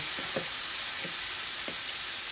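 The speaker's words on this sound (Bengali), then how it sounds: "এই মাছগুলো আস্তে আস্তে ভাজা হোক" Rui fish fries slowly in hot oil, giving a faint, steady sizzle with a few soft spatters and stirring sounds.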